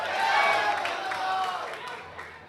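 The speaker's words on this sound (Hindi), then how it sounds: "एक बार जोरदार तालियों से जय जय कमलनाथ" A crowd at a political rally breaks into applause and cheering, a dense, distant wash of clapping with voices rising and falling over it.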